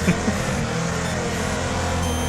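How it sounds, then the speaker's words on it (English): A truck engine in the demolition racing game Wreckfest drones steadily at close range, a continuous low rumble with faint voice beneath it. "I'll move my truck out of the way again."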